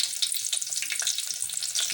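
Two green chillies spit and sizzle in hot oil in a pan as tempering for a palak curry, a close, steady crackle with rapid bursts of bright popping and no talk.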